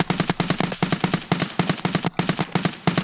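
Rapid bursts of gunfire in a shooter game, a steady run of sharp, loud shots in quick rhythm broken by two brief pauses, with no talk over it.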